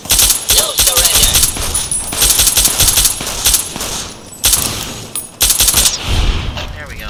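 Rapid automatic gunfire from Fallout New Vegas, loud and close, in dense bursts separated by brief pauses, with a voice talking in places.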